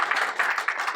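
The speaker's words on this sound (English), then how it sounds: "you can applaud" A studio audience on a coast-themed talk show breaks into brief applause, a steady wash of close clapping that swells in slight pulses for about a second.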